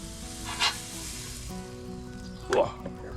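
Salmon fillets sizzle steadily on a hot grill while being seared for grill marks, a constant close frying hiss with a couple of brief louder flare-ups, no talk over it.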